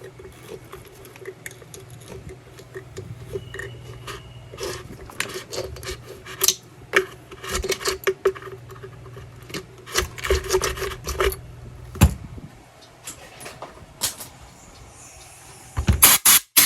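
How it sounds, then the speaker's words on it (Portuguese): Rasping, rubbing tool work enlarging a hole in a chainsaw body so a hose will fit, irregular scraping strokes up close with sharp clicks and knocks, no talk. "Precisamos agrandar o furo para poder encaixar a mangueira da Steel"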